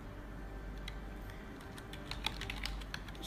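Password being typed on a computer keyboard during a software migration, a quick run of light, scattered key clicks over a steady low hum.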